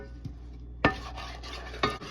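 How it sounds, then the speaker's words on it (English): Butter mixture being stirred in a pot, heard as a few scattered spoon scrapes and taps against the pot over a quiet low hum, with a sharper knock near the middle and another near the end. "Now I'm gonna stir this"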